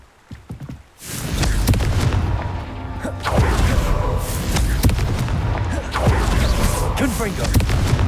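Confringo blasting spell going off in Hogwarts Legacy, the wizarding action game: after a short quiet start, a sustained roaring blast with rumbling thumps, followed by two more surges of crackling explosive noise, loud and close, with faint voice underneath.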